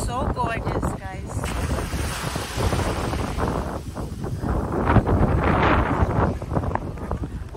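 Gentle ocean waves washing ashore at Dorado Beach, Puerto Rico, heard as a continuous roar of surf heavily buffeted by wind against the microphone.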